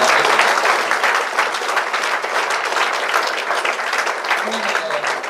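Audience applause at a chemistry department association meeting at Nehru Memorial College, a dense, steady clapping from a crowd that fills the whole stretch at moderate loudness with no pauses.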